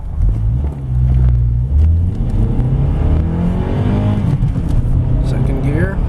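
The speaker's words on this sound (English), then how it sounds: "We'll get to a complete stop, and then we'll do a pull going up this hill." A 2003 Honda Accord EX with a 5-speed manual pulls away from a full stop up a hill, the engine droning loud and close as it revs up steadily with rising pitch, while a person talks over it.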